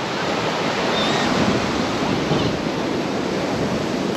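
Steady roaring wind on a beach buffeting the microphone, with a surf-like broadband rush that holds constant throughout, loud and close.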